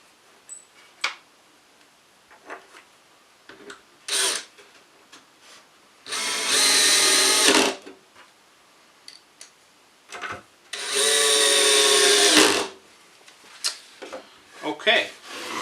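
A power drill drives screws into a wooden flower box in two long, loud whirring bursts, each ending as the screw seats, with tapping and handling noises and someone talking in between.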